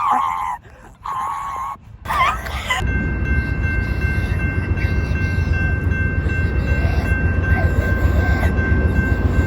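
Norfolk Southern train rolling past in a continuous loud rumble of rail and wheel noise. Short bursts of voice or horn-like tones come first, then a steady roar with a sustained high tone above it.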